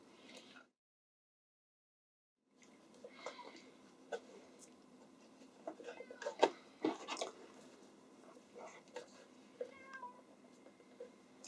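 A pet cat meows in short, close, fairly quiet calls after a brief silence, repeated several times over a soft rustling room background with no talking.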